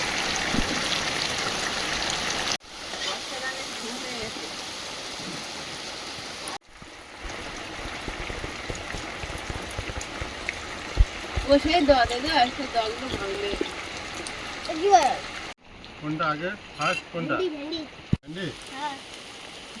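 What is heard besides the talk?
rain falling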